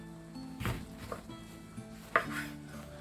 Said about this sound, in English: I've got my bloody great big knife and I've got the lemon, and all we're going to do is cut the bugger in half